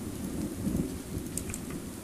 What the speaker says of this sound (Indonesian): Oh, ada suara petir, guys, ternyata.